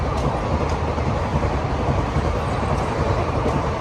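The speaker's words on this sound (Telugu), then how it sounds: "ఒక్కనే ఇక్కడ శివన్య వాళ్ళ తాతతో ట్రైన్ వెళ్తుంటే చూస్తూ ఉంది" A train rumbles past close by, a loud continuous roar with rhythmic clicking of wheels on the rails.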